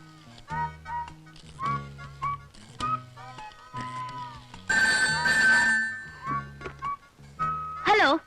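A telephone rings with repeated electronic melodic tones. A brighter burst sounds midway and another near the end, and a voice is heard between the tones.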